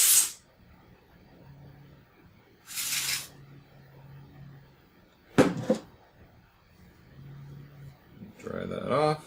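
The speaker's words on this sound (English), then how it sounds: "I am just gonna blast it with some contact cleaner." Contact cleaner sprayed onto a Commodore 64 keyboard in a few short hissing blasts, with a longer crackling burst near the middle and another toward the end, heard close up.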